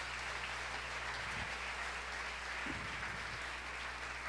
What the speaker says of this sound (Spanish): Dele un aplauso al Señor, mi hermano